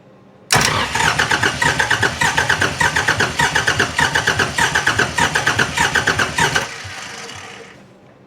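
A Kubota M125X diesel tractor engine cranks in rapid rhythmic bursts for about six seconds without catching, then winds down, loud and close with no talking.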